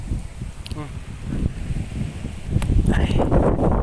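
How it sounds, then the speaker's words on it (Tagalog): Strong wind gusts over a fishing boat at sea as rain begins, a steady roaring rush buffeting the microphone, with someone talking over it. "Pero pauwi na rin tayo mga boss kasi umuulan na. Kaya napakalakas ng hangin"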